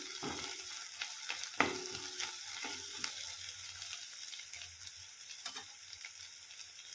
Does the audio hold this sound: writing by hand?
no